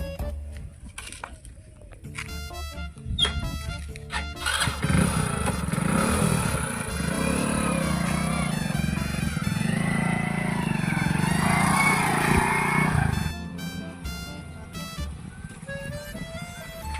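A motorcycle riding past, its engine rising to a loud, steady close drone for several seconds before easing off, with some voices around it.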